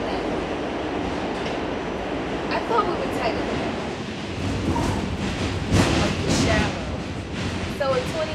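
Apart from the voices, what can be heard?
riding inside a train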